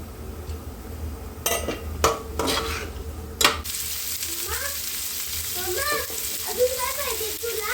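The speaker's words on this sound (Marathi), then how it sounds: "मीठ टाकून व्यवस्थित परतून घ्यायची मटकी." Sprouted moth beans with salt sizzle steadily in a pan while a spatula scrapes and knocks a few times, then the frying settles into a constant hiss with faint chirpy tones.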